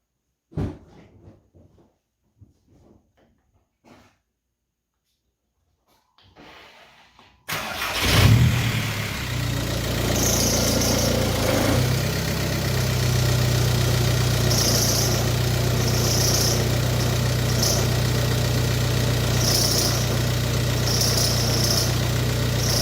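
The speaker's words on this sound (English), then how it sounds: "I'll start the car right now for you guys so you can hear the squeal" A VW Jetta MK4 with a squealing alternator pulley sits silent with a few faint clicks, then cranks and fires up. It settles into a steady, loud idle with a repeating high-pitched chirp riding over the engine.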